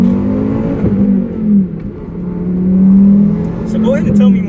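A 2004 Volvo S60 R accelerates in a roll-on from inside the cabin, its engine droning steadily and swelling in loudness as revs climb, with a brief dip in the middle and people talking faintly.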